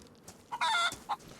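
A chicken in the survival video game DayZ gives a short burst of clucking, one sharp harsh squawk followed by a quicker cluck, close and clear over near silence.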